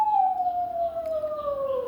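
A single fire truck siren tone sliding slowly downward in pitch, loud and continuous, as the truck passes by.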